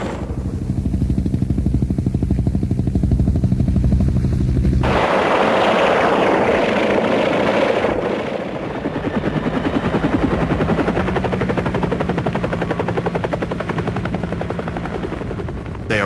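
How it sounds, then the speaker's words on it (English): Massed American military helicopters lifting off in the early-1970s Vietnam War, a loud, sustained rotor thrum and engine roar that shifts character partway through and continues without speech. "120 American choppers lift off to deliver 800 additional ARVN ground troops"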